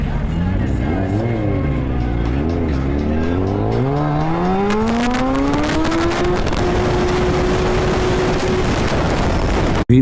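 In city traffic, a vehicle's engine accelerates hard from a signal, its loud, close drone climbing steadily in pitch over several seconds before levelling off and cutting off abruptly.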